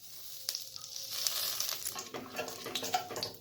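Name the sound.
black cumin tempering sizzling in hot oil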